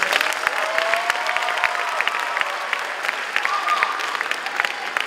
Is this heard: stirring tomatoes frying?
no